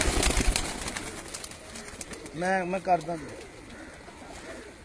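Pigeons coo in a rooftop loft in Punjab, where female birds are kept. A clear two-part coo comes from nearby, with someone talking before it.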